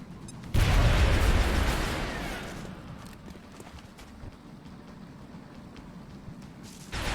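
A frag grenade detonates in XCOM Long War, one loud, deep blast that fades into a long rumbling tail and then quiet background ambience.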